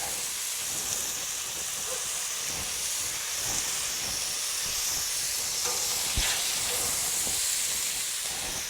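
Burger patties smashed onto onions sizzle loudly and steadily on a Blackstone griddle, a dense, continuous hiss with occasional small pops and scrapes throughout.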